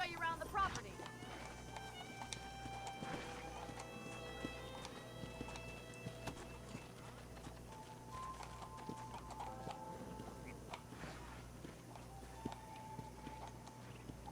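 Horse hooves clip-clop steadily while riding in Red Dead Redemption, a continuous rhythmic patter under game music and occasional speech, moderately close throughout.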